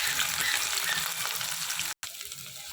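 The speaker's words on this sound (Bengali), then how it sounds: "তো পেঁয়াজগুলোকে এখন আমি একটু তেলে ভেজে নিই।" Chopped onions fry in hot oil in a kadai with a loud, continuous sizzle and hiss. Faint stirring scrapes come through, and there is a brief cut-out near the end.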